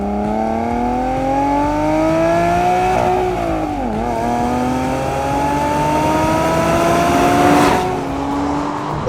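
A Porsche Cayman S on its standard, non-sport exhaust accelerates hard, the engine note climbing steadily in pitch, dipping briefly at a gear change, then rising again, loud and close throughout.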